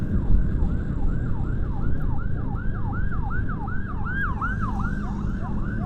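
An emergency vehicle siren wails from behind on a road while riding a motorcycle, a repeated rapid up-down electronic warble over loud engine and wind noise, steady across the whole stretch.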